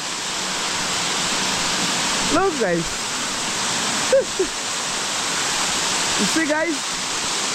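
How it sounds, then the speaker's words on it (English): A waterfall roars in a steady, loud, broadband rush throughout, while someone speaks briefly several times over it. "That is the waterfall."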